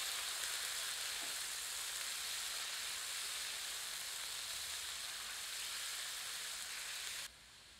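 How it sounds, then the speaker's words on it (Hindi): Chicken pieces fry with ginger and garlic on a tawa over medium heat, a faint, even sizzling hiss that runs steadily and drops off abruptly near the end. "इसे अदरक और लहसुन के साथ अच्छे से मिलाकर मध्यम आंच पर तीन से पाँच मिनट भूनते हैं"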